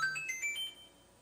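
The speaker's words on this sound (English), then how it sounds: "oh, I got a text message." A phone's text message notification tone: a short run of a few quick, clear electronic tones at moderate level, with no talk over it.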